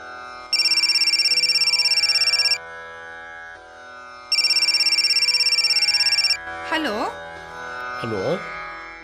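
A telephone rings in a Kannada radio drama, two long electronic ring bursts with a pause between, loud and close, followed by brief voice-like sounds.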